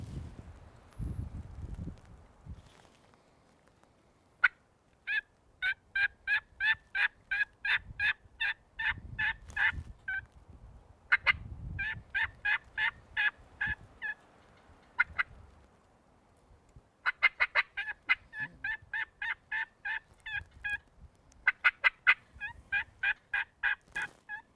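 Wild turkeys, hens and longbeards, call outdoors in Texas in rapid repeated bursts of gobbling and clucking, several rattling trains in a row, with wind and rustling in the background.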